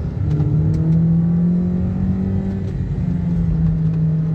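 A Toyota Sienta with a CVT gearbox accelerating hard in first gear, the engine droning loud and close with a rising, steady whine and rumble throughout.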